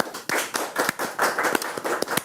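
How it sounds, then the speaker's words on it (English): Sparse, close clapping from a small group in a cricket broadcast studio, with distinct individual claps in a loose, uneven rhythm. "Round of applause"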